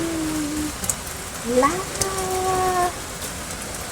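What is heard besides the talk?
rain falling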